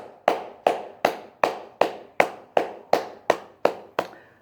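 Eleven sharp, evenly spaced claps ring out alone at a steady rhythm, crisp and close, like a single pair of hands clapping slowly.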